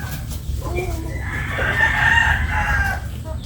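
Farmyard chickens cluck nearby while a rooster lets out a loud, drawn-out crow that dominates the middle of the clip, with steady low background noise.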